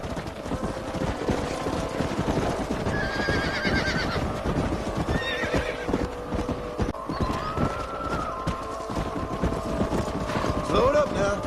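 Horses in Red Dead Redemption whinny and snort over a busy clatter of hooves, with several loud neighs standing out near and mid-distance while a background voice speaks briefly.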